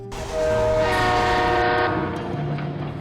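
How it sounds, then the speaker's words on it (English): Train arriving at Transnova Station in the Delta Force video game, a loud sustained horn blast with layered tones over rumbling rail noise and clatter, tapering off toward the end. "The tracks tremble, signaling boarding time at Transnova Station."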